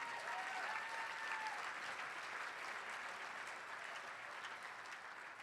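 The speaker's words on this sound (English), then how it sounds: "Yeah, you can clap." An audience at a scholarship awards dinner breaks into sustained, even applause from many hands that fills the whole stretch and fades slightly toward the end.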